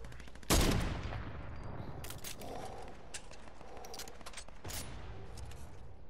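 Gunfire in Fortnite: a loud close shot followed by a stretch of rapid, sustained shooting and scattered further bursts over steady game ambience, with no talk.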